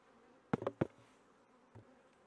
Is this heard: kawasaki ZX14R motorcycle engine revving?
no